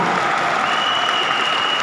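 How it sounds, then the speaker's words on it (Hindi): Audience applause for a couple, Nitin and his wife, a dense, loud, continuous wash of many hands clapping that holds steady without a voice over it. "एक बार जोरदार तालियां नितिन जी के लिए, भाभी के लिए।"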